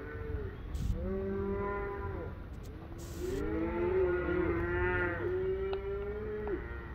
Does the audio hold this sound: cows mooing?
yes